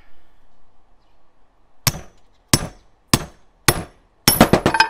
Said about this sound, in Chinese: 把这个牛蹄子从中间一分为二